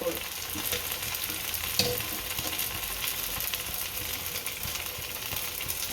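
A semolina and potato snack fries in oil in a pan, giving a steady, close sizzle that runs the whole time, with faint stirring scrapes and no voices.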